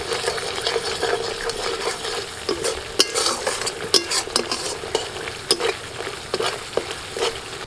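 Biryani masala fries in oil with tomato and yogurt for an onion-free paneer biryani, a soft sizzle under repeated sharp spatula scrapes and clacks against the pan, close by and without speech.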